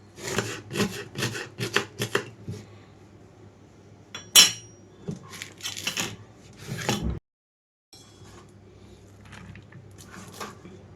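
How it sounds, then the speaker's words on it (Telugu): Fine knife chopping of onion on a board while making alasanda garelu, a string of quick, close, crisp taps in bursts with a short pause, then softer rustling and handling. "ఉల్లిపాయ ముక్కలను కూడా కట్ చేసుకుంటున్నాను"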